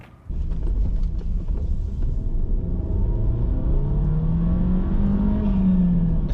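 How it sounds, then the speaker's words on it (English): A SEAT Leon Mk3 accelerates on the road, its engine note rising and falling through the gears as a steady throaty rumble heard from inside the car, with a whirring climb in pitch near the end. "A lovely induction noise, that really adds to it."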